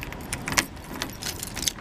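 Keys jangle in short metallic bursts close by as a Volkswagen Polo is locked, brief rattles scattered over a couple of seconds.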